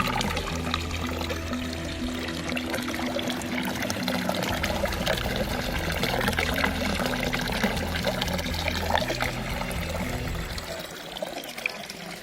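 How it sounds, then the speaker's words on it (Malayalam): Steady flow of clean drinking water running down from the mountains at Eravikulam National Park, a continuous pouring and trickling sound that stays close and fairly loud throughout with no talk. "ഈ കാണുന്ന മലമുകളിൽ നിന്നാണ് ആ വെള്ളം വരുന്നത്."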